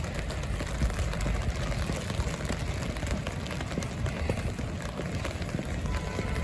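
Rain falls steadily in a city park in Zaragoza, Spain, an even, close hiss of drops on surfaces that stays constant throughout with no talk.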